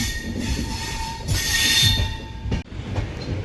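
A train rolls into Kollam Junction with steady rumble and high, drawn-out wheel squeals, loud and close, fading slightly as it slows.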